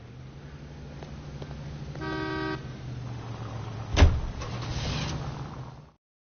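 A 1940s-style car drives through city streets in L.A. Noire, with a low steady engine hum, a brief horn toot, and a sharp thump near the end before the sound cuts out.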